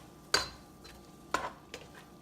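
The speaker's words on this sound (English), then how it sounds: "I'm gonna go ahead and mix the minced garlic with the ground turkey that's been browned" Minced garlic and browned ground turkey frying in a pan for lasagna, with a few sharp scraping strokes of a utensil against the pan over a faint background sizzle, no talk.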